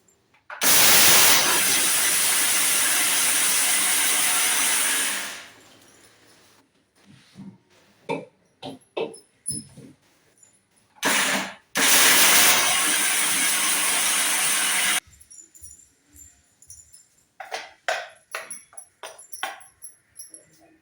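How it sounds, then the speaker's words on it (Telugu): A kitchen mixer grinder grinds homemade sambar powder spices mixed with turmeric, in two loud, steady whirring bursts of about five and three seconds, separated by quieter clatter and handling noises. "ఇప్పుడు మనం మిక్సీ పట్టుకుందామండి"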